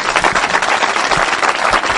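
A studio audience applauding, dense and continuous clapping at close range, fairly loud and steady with no voices.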